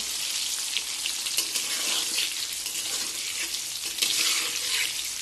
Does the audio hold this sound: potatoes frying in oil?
yes